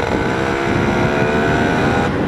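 A Lambretta scooter engine pulling at speed while riding close behind a car, a loud, steady buzzing drone with a constant pitch, heard continuously without talk.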